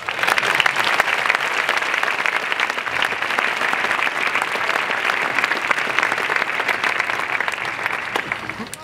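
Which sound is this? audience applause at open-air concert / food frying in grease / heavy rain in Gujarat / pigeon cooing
audience applause at open-air concert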